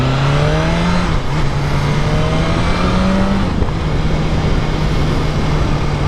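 A 2022 BMW S1000R motorcycle rides at steady speed, its engine droning loud and close amid strong wind noise, with a brief dip in pitch as the rider adjusts the throttle before the engine holds on again.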